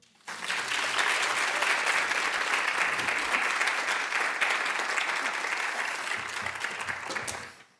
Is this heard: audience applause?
yes